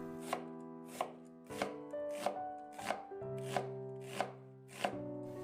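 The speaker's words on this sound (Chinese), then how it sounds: "给它切成细丝" A knife slices half an onion into thin strips on a board with about eight evenly spaced, crisp chops over soft background music.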